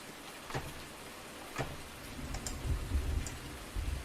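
Rain falling during cultivation work in Farming Simulator 19 with an open-top Massey tractor, a steady patter with scattered light ticks and drips and a low rumbling bed underneath, moderately loud, no voices.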